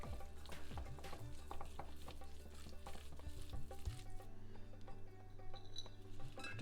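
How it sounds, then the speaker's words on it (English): Potatoes and other ingredients stirred in a pan, a soft sizzle with scattered clinks and scrapes and a low steady hum beneath, faint and close, no speech. "And then you put basically all the ingredients. Give it a mix."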